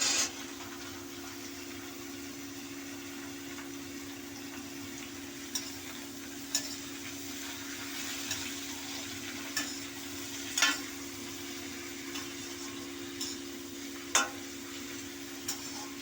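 Ridge gourd pieces frying in a pan on the stove, with a steady low sizzle and occasional soft scraping stirs and clicks spaced a second or two apart, close by and fairly quiet, no voices.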